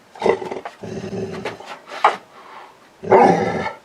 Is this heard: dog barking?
yes